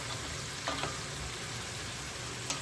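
Vegetables cooking in a pot for oxtail stew, a soft continuous sizzle under low background hum, with a couple of faint utensil clicks as they are stirred.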